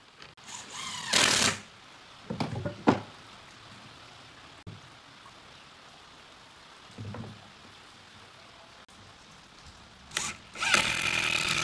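Power tool driving screws into wood while a wooden garden swing chair is built, several short bursts of whirring with pauses between them, plus clattering handling noise and a steady background hiss.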